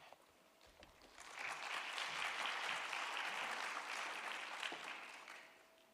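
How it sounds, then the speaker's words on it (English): An audience at a green minerals panel of a summit conference breaks into applause as the moderator comes on stage, steady clapping swelling after a second, holding, then tapering off. "A round of applause as she comes on stage and introduces her panel."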